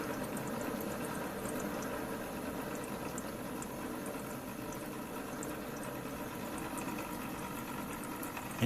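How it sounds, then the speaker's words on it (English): A phone-charging Stirling engine with finned cool plate runs quietly, giving a faint, steady low hum and soft whir throughout with no change in level. "Engine's very quiet."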